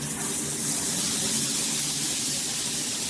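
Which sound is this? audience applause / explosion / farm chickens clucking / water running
water running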